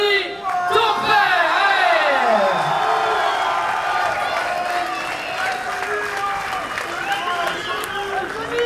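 A large crowd at a world championship fight night in Nice cheers, whoops and applauds loudly for a fighter named Johnny. The roar is sustained and close, with an announcer's voice over it at the start.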